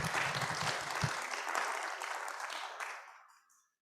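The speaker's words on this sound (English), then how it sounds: "I want to give a round of applause to our speaker, Rana, there." Audience applause after a science café talk on engineering in medical training, a dense wash of clapping fading out over a few seconds with a faint voice near the start.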